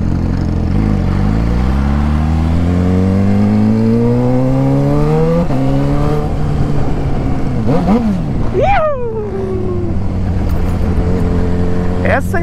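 A Suzuki SRAD 750 motorcycle with a homemade exhaust revs loudly nearby, its engine note climbing steadily before sharp throttle blips rise and drop, with people talking over it.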